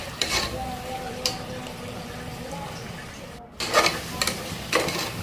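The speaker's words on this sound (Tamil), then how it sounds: "இப்போது எல்லாத்தையும் நல்லா மிக்ஸ் பண்ணி விடுங்க." Onions and tomatoes sizzle steadily in a pan while a utensil stirs them, with scraping strokes and clinks breaking through the constant frying hiss at irregular intervals.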